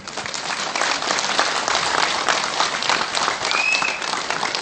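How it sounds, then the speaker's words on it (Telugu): An audience applauds continuously at a gathering, dense steady clapping at a consistent level throughout. "నా సేవకి చప్పట్లు కొట్టండి అందరూ"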